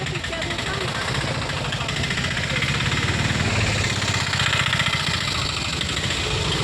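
A motorbike engine idles steadily and close by for the whole stretch, a continuous rumbling chug, with people talking over it.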